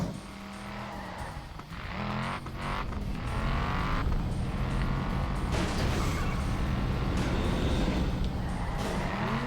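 A racing car in the video game Flatout 3 revs continuously, its engine pitch rising and falling with creaks and tire squeals, loud and steady throughout without talk.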